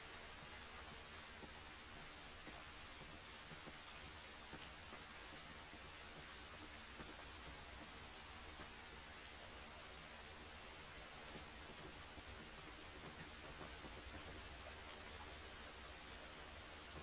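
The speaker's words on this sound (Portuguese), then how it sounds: "Essa chuva não vai nos ajudar." Steady rain falling in the video game The Last of Us, a constant even hiss of downpour with no breaks, faint and continuous throughout.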